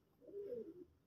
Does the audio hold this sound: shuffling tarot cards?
no